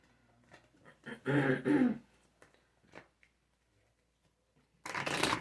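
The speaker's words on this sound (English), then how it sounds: "Sorry, I keep clearing my throat." Two bursts of throat clearing, a longer rough one early on and another near the end, separated by quiet stretches with a few small clicks.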